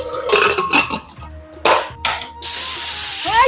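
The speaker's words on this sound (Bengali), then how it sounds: "এবার প্রেসার কুকারে" A pressure cooker boiling sweet potatoes releases steam in a loud, sustained hiss that starts abruptly partway through, after earlier bursts of clattering and spraying sounds.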